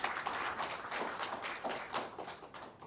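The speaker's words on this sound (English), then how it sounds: "Can you clap for the ministry at least?" An audience clapping for the ministry at a Nairobi City Marathon preparation event, a steady patter of many hands applauding at moderate distance, with no talk over it.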